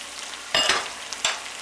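Butter-fried onion and mushrooms sizzle softly in a pan, with two brief bursts of louder crackling and scraping as the pan is flicked and stirred, otherwise a quiet hiss.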